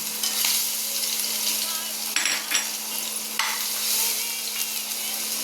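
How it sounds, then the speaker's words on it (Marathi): Ground green chili and garlic paste hitting hot oil, sending up a loud steady sizzle with bursts of spattering and stirring, close up with no talking. "तेल तापलंय. आता मिरची आणि लसूण जे वाटून घेतलं होतं ना"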